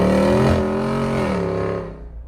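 A 2021 Jeep Wrangler Rubicon 392 with a 470-horsepower Hemi V8 revs hard, its deep engine note rising and holding strongly before tapering off into quiet near the end.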